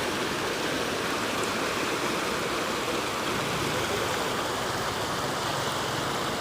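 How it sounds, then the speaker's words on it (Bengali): A small village river swollen by floodwater rushes past in a loud, continuous roar, with no voices over it. "আপনারা দেখতে পাচ্ছেন তো কী পরিমাণে পানি আসতেছে"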